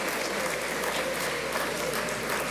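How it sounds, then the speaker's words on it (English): Steady, dense applause from the audience at an evening national honours and investiture ceremony, loud and continuous throughout with no gaps. "Let's give them a round of applause."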